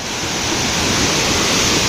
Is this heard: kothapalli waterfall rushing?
yes